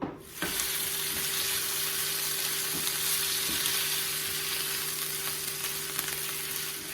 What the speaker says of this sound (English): my sausage is done, and I cannot stress enough to be careful with this grease because it pops